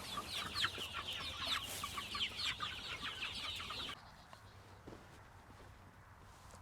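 Chickens cluck and chatter close by in a busy run for about four seconds, then the flock goes almost silent, leaving only faint scattered sounds and a sharp bump at the very end.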